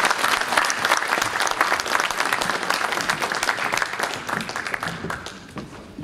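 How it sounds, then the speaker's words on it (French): Audience applause welcoming a speaker at a lecture on law and de-Islamisation in Europe, a dense steady clapping that fills the room throughout and tapers slightly toward the end. "Je vous demande à applaudir"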